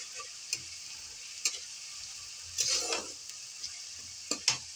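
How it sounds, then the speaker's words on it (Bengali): Ginger, chilli and garlic paste fries in a pan with a soft, steady sizzle, broken by a few sharp taps and scrapes of stirring. "ফ্রাই হতে থাকুন।"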